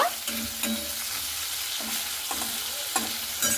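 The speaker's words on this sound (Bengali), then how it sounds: "পেঁয়াজটাকে দিয়ে একটু ভালো মতো করে নাড়াচাড়া করে নিচ্ছি, কারণ পেঁয়াজটাকে হালকা করে আমি ভেজে নেব" Onions fry in a pan, a steady sizzle broken by repeated scraping stirs at a regular pace, close and alone without speech.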